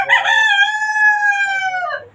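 A caged rooster crows once, a long harmonic call that rises, holds steady, then drops off at the end, loud and close with no voices.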